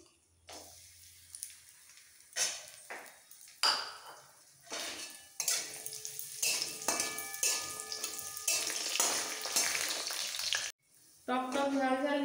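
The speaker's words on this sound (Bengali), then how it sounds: "কাজু কিশমিশ ভাজা হয়ে গেছে, আমি তুলে দিচ্ছি।" Cashews and raisins fry in oil with a soft sizzle while a metal spoon scrapes and clinks against the pan, and the stirring comes in uneven bursts before a brief pause and a final clatter.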